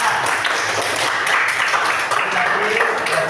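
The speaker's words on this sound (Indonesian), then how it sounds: "Oke, tepuk tangan untuk Ansa." A class of students applauds a classmate, a steady burst of clapping filling the room for a few seconds alongside some voices.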